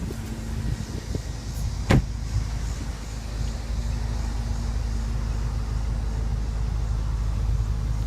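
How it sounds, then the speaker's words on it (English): The trunk of a 2015 BMW M6 Gran Coupe pops open with a single sharp release click near the start, over a steady low rumble. "Now let's pop the trunk and see how much cargo space the trunk offers."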